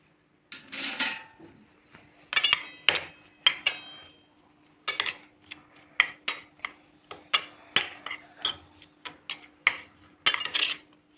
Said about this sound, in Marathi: आता याला मिक्स करूयात आपण.